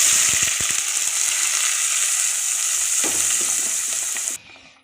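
Fenugreek, mustard seeds and curry leaves crackle and sizzle loudly in hot oil for a fish curry, with a few sharp pops early on, then a steady fry that cuts off abruptly near the end.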